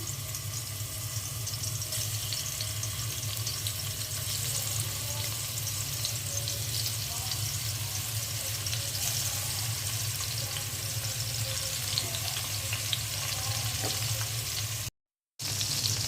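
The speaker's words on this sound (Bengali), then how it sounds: "তেলটা গরম হয়ে গেছে, এখন আইল মাছটা ভেজে নেব।" Aair fish fries in hot oil, giving a constant steady sizzle from start to finish, fairly close, with one brief dropout near the end and no voices.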